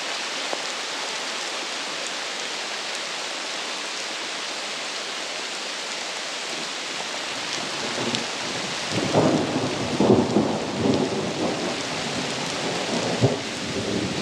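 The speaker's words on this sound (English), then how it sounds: "Forecast called for light rain, and this is more like a hurricane. Getting some hail." Heavy rain with hail pours down on a flooding mountain trail, a dense steady roar that swells and grows rougher with rumbling thunder in the second half, no voices.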